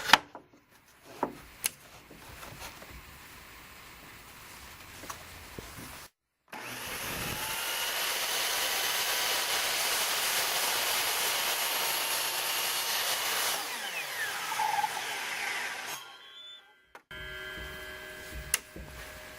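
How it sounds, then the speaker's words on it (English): A chop saw cuts a wooden template piece to length in a workshop. A loud, steady whine runs for about ten seconds, with quieter clunks and handling noises before and after it. No one speaks. "Now I'm at the chop saw, and we'll cut this off to length."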